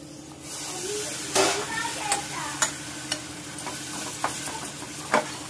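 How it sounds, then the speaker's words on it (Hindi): Mutton mince sizzling in a pan with fried mutton masala and spices, a steady frying hiss broken by several sharp scraping stirs, close and moderately loud, with someone speaking over it at times. "आता मी किमा लगेचच घालून घेते।"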